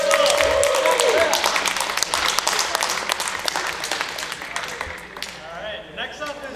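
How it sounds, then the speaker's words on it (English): Audience applause and cheering for a capoeira club performance at a college club showcase, a dense, steady wash of clapping from a crowd that thins slightly toward the end, with voices mixed in. "let's give another round of applause to the Capoeira Club"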